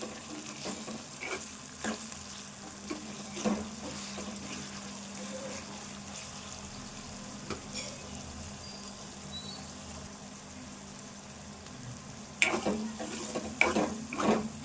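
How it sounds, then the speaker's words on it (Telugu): Sliced onions fry in a pan with fenugreek and curry leaves for an onion egg fry, giving a soft, steady sizzle broken by occasional stirring clatters that grow louder toward the end. "ఈ ఉల్లిపాయ మంచిగా ఫ్రై కావాలి"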